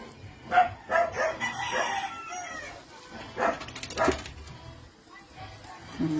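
Dogs bark in short bursts near a house, some close and others farther off, with roosters crowing and chickens clucking in the background and a voice speaking over the noise.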